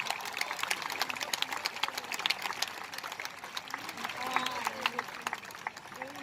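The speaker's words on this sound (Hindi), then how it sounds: "तालियां आप तक बजे जब तक वो माइक पे ना आ जाए" Crowd applause greeting poet Hariom Pawar at a 2022 kavi sammelan in Rajnandgaon: sustained, moderately faint clapping from a large audience, with voices and a tonal murmur woven underneath throughout.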